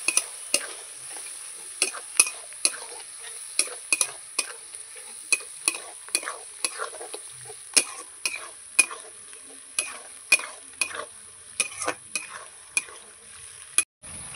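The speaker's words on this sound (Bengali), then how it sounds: "এবার সব মশলাগুলো একসঙ্গে আমি কষিয়ে নেব" A ground spice paste with turmeric and salt for chicken curry is sautéed together in a pan, with a quiet sizzle under a steady, rhythmic run of sharp spoon-against-pan scrapes and clinks, close and clear.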